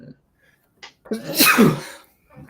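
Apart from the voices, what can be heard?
sneeze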